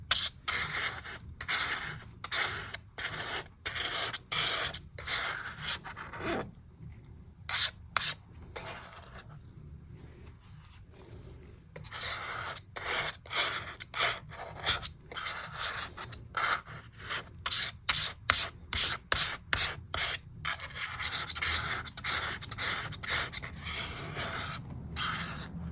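A razor blade scrapes across MacBook keyboard keys treated with WD-40, giving rapid, rhythmic scratchy strokes close up. The strokes come in dense bursts with a short pause midway, and no one speaks.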